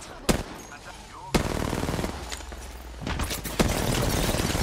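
Gunfire in Apex Legends, with several hard sharp shots cracking close and loud between rapid automatic bursts, mixed with game noise and a player talking underneath.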